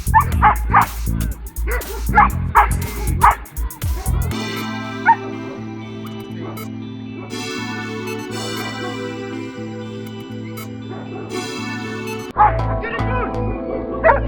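Dogs barking during protection training with a bite sleeve at a dog facility. Sharp, close barks and yips come in bursts at the start and end, with drawn-out whining between them and people talking.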